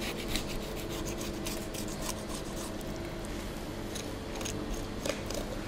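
Scissors snip through a fish's backbone during stuffing preparation, a steady rasping, crunching cut running continuously and close up with a few sharper clicks, no talk.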